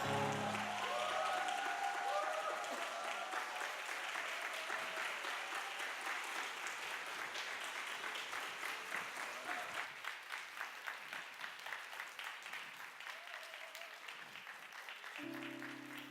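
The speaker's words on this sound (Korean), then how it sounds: "우리 들어가실 때까지 계속해서 큰 박수로." Loud, sustained applause from a church congregation at a young adults' worship service, dense clapping that fills the space and slowly thins toward the end, with a brief musical tone near the close.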